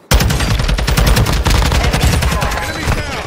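Call of Duty Warzone 2 gunfire, a loud, dense burst of rapid automatic shots sounding continuously, close and intense, with a faint voice in the mix.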